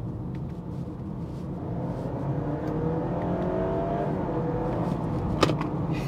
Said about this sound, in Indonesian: Coba kita masuk mode sport dan semoga kedengaran suara mesinnya kayak gimana ya